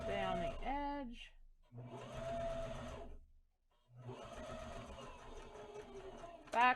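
A sewing machine runs in short stop-and-start bursts while stitching a fabric mask, pausing between runs, with a person speaking briefly near the start and end.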